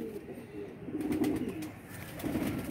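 Kamagar pigeons coo in low, soft bursts close by, with a couple of murmuring rounds spread over a few seconds.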